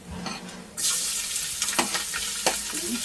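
Crushed ginger and garlic drop into a hot pan with coconut, bursting into a loud sustained sizzle, with a few utensil scrapes and stirring knocks as the frying continues, no talk.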